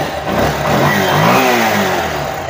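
A Bajaj Pulsar motorcycle with a suspected ignition coil problem fires up and revs, a loud close engine that swells and settles over a couple of seconds with no voices.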